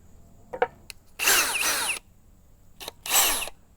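A power drill with a 1 3/8 inch bit and a 1/2 inch chuck bores into wood in two loud, close bursts of whining, grinding cutting, with short clicks and pauses between them.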